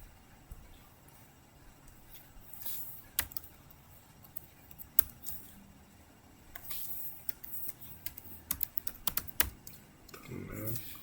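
Someone typing a networking command on a computer keyboard during a router troubleshooting lab, quiet, irregular key taps in bursts, with a few louder clicks near the end.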